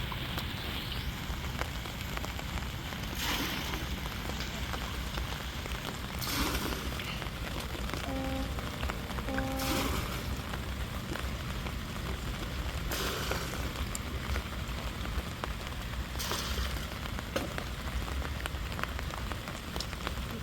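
Heavy rain pours down in a village, a thick, unbroken patter on surfaces with occasional louder bursts of drops over about twenty seconds.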